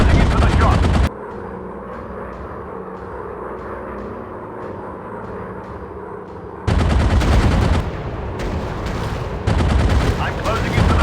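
Machine guns fire in long, loud, continuous bursts from fighter aircraft in an aeroplane combat video game. A quieter stretch in the middle has a steady engine drone with regular faint pulses, and then dense firing returns.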